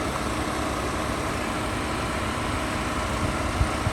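A 2020 BMW 530 xi's 4-cylinder turbocharged engine runs steadily, a low, even hum at close range with no one talking.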